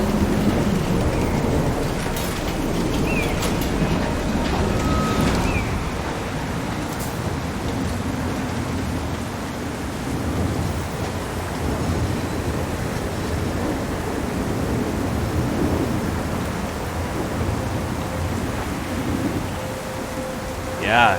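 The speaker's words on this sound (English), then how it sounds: "Storm's already coming." Thunderstorm with steady rain in the video game Syberia The World Before, a continuous dense wash of rainfall with low rumbling thunder underneath, holding fairly loud and even throughout.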